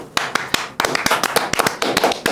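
Hand clapping in a studio morning show: a quick, uneven run of sharp, close claps with short pauses, loud and crisp and without talk.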